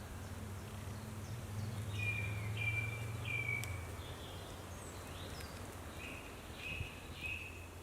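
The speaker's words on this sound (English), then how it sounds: "Can you hear the bird song?" Wild birds singing outdoors by an old English elm tree and hedge, several short chirping phrases repeating at a moderate distance over a steady low rumble of ambient background noise.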